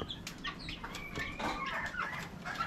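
Mother hen of a brood of chicks clucking in a farmyard, soft repeated clucks over steady outdoor background noise, moderately distant.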